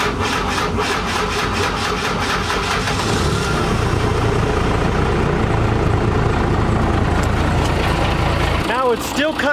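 A 12V Cummins diesel with a slow-cranking starter problem turns over laboriously, a continuous loud churning grind that labours steadily before cutting off near the end.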